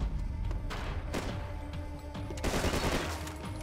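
Gunfire in Max Payne 3, a fairly faint but steady flurry of rapid shots and thuds with a denser burst near the end, heard alone without talk.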